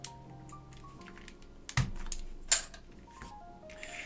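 Keystrokes on a vintage Alps switch keyboard, with scattered clicks and a few sharper, louder key hits, fairly close and with no talking.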